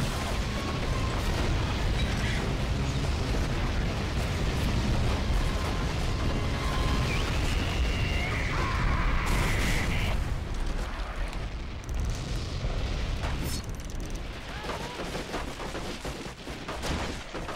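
Explosions and heavy gunfire fill a Medal of Honor European Assault battle at the Battle of the Bulge as a tank is blown up, dense continuous booming and crackling that eases slightly toward the end.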